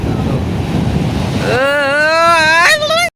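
Surf at Marina Beach, Chennai, on a rainy day: a loud, close rush of waves and wind buffeting the microphone, then a sustained tonal voice-like sound breaks in over it.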